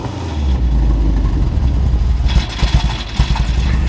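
A car engine runs loud and close, idling with a deep rumble, then revs up in several uneven bursts during the second half.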